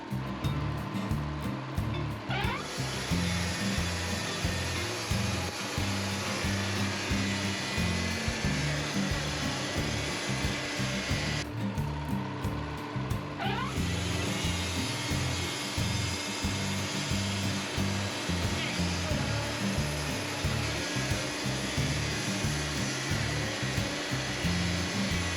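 A Wood-Mizer LT40 sawmill band blade cuts steadily through an ugly black locust log with punky rot in its middle, a loud continuous motor drone with a brief shift in pitch partway through, running alone with no talk.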